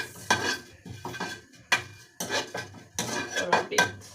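Beef frying in a pan, stirred in bursts of loud metallic scraping and clanking from a utensil against the pan, three distinct clusters with short pauses between, close up and without speech.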